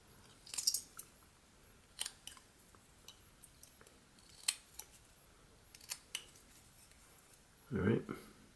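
A knife whittles wood while carving a mountain lion figure, giving short, scattered scraping and snicking cuts, quiet and close, with a soft thump near the end.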